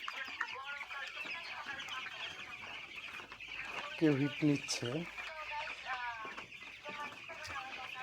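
Sixteen-day-old broiler chickens in a poultry shed cluck steadily while eating and drinking, a dense flock chorus of overlapping short calls with a few louder nearby clucks, while someone talks over them.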